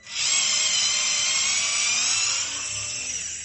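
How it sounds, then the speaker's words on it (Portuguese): A Deli 3.6V cordless electric screwdriver whines steadily up close as it backs screws out, a continuous high motor buzz that eases slightly near the end. "Só para remover os parafusos aqui completamente agora."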